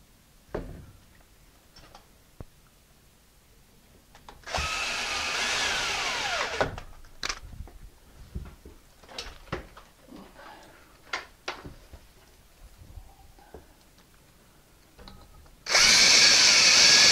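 Power drill driving screws into a plumbing valve, two sustained whirring bursts separated by clicks and handling taps, the second burst loud and close.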